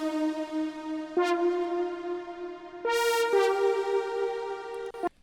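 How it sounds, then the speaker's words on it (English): A synth brass stab patch built in Serum plays a slow top melody of a few long, buzzy, harmonically rich notes with clicky attacks, clear and alone with no voice. "And then the last thing is this brass stab that I've created."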